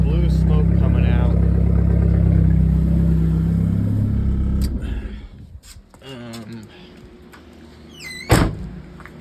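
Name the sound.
Mitsubishi Eclipse SRT4 turbo engine revving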